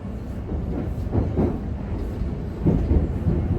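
London Overground Lioness line train running toward Watford Junction, a steady low rumble from inside the carriage with rhythmic swells of wheel and track noise.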